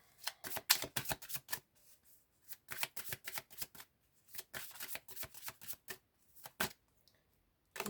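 Tarot cards are shuffled by hand in quick bursts of crisp riffling and slapping, close and fairly quiet, with short pauses between groups of shuffles and no talking.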